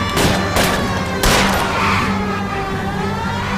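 Gunfire rings out during a car chase in the LA Noire video game, with a few loud sharp shots over a constant roar of engine and road noise.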